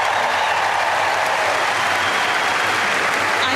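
A Wimbledon crowd at the ladies' final applauds steadily, a dense, sustained wash of clapping from a large audience with no break.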